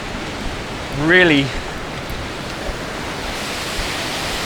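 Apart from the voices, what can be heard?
ocean waves breaking on a beach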